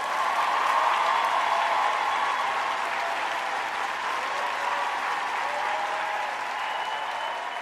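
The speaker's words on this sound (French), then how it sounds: "Est-ce qu'on peut applaudir, s'il vous plaît?" Studio audience applauding at the opening prime of the Maajabu Rafiki talent competition, a steady wash of clapping that holds evenly from start to finish.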